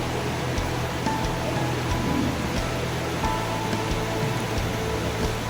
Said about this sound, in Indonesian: kita disambut dengan suara-suara gemericik air ya, yang karena di bawah ini aliran air ya, sungai